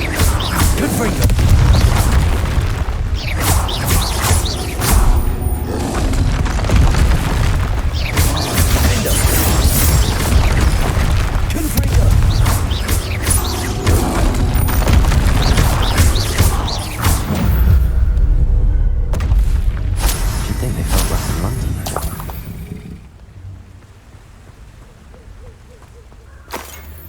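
Confringo fire spell explosions from Hogwarts Legacy, loud booming blasts with crashing impacts packed densely for over twenty seconds, fading abruptly to a quiet tail near the end.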